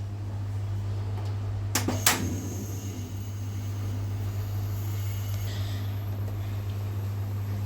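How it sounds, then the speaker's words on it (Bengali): Kitchen stove switched on before cooking, two sharp clicks close together followed by a steady hum that continues throughout. "সবার প্রথমে আমরা চুলাকে অন করব।"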